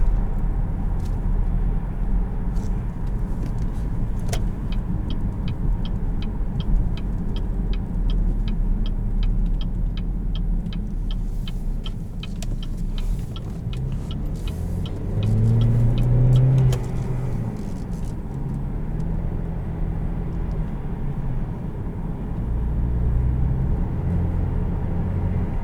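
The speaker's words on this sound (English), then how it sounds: "You can definitely hear the blow-off valve." A 2017 Buick Regal GS turbocharged engine drones steadily from inside the cabin, with a brief rise in revs and a quick whooshing release of the turbo blow-off valve partway through, under constant road rumble.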